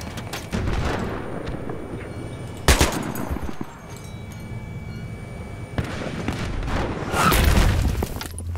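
Battlefield 3 video game combat with bursts of rapid gunfire and heavy booming blasts, some close and loud, others more distant, over a constant rumbling background.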